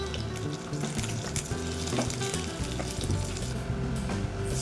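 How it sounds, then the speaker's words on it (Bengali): White cumin seeds and bay leaves crackle and sizzle steadily in hot oil in a pan, a dense close frying hiss with small pops running throughout, no voices. "এবার আমি ওই তেলেই কিছুটা সাদা জিরে দিয়ে দিলাম আর তেজপাতা।"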